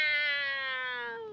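A person's voice imitates a cat, giving one drawn-out meow that slides downward in pitch, clear and close, with no other sound.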